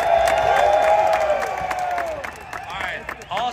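A sold-out crowd at Stafford Motor Speedway cheers, whoops and applauds loudly and continuously, with a sustained whistle or horn-like tone early and scattered shouts throughout.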